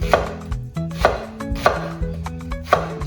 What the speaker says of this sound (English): We're gonna just rough chop it.